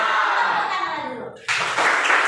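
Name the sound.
class applauding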